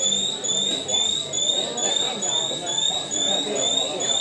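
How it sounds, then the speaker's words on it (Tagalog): An alarm beeps in a steady repeating pattern under people talking nearby, ongoing through the whole stretch. "Ano yan? Nag-a-alarm."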